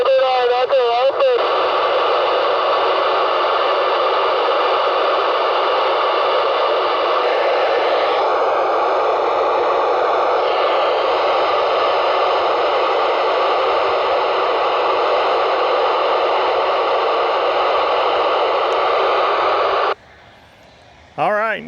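Amateur radio satellite downlink on the SO-50 satellite, a steady hiss-laden FM signal carrying faint voices for about twenty seconds before abruptly cutting out as the pass is lost over the horizon, leaving brief static.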